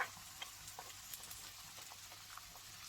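Garlic and minced half an onion fry in a pan, with a faint, steady sizzle and scattered soft crackles throughout.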